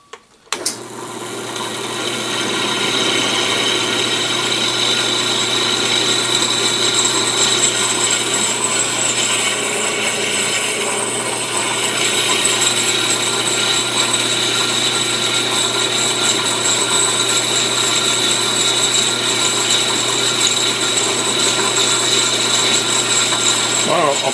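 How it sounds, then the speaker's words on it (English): A loud, steady mechanical whir runs almost unbroken after a short click at the start, like a power tool boring through material close by. "And now I just need to drill the 4 holes and tap them."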